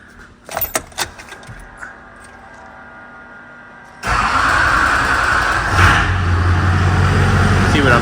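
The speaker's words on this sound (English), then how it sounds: "I think I'm gonna go ahead and start the truck" Keys jingle briefly, then a 20-year-old rusty Duramax diesel truck engine, leaking fuel, cranks and catches, settling into a loud, steady rumbling idle close by.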